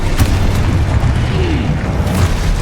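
Explosion from the Confringo spell in Hogwarts Legacy, a loud, deep booming burst that rumbles heavily through the whole moment.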